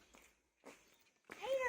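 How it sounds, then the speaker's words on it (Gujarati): Cats in a village meow in three separate calls, the last one louder and more drawn out, with quiet gaps between them. "આ બિલાડીઓ છે."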